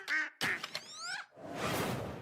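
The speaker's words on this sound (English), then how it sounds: "What's with the duck sound this year?" Duck quacks burst out in a loud, close cluster of harsh, nasal calls, followed by a rising rush of broadband noise that swells and holds to the end, heard during a live video game showcase broadcast.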